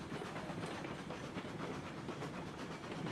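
A steam train in the video game Railroads Online rolling slowly into a yard, with a steady, quiet rumble, soft hiss and faint rhythmic clatter of wheels on track, no talking.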